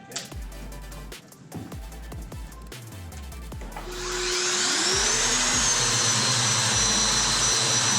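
A power sander kicks on against a flat epoxy-coated wall, rising from scattered knocks and handling noise into a loud, steady whirring roar that holds to the end.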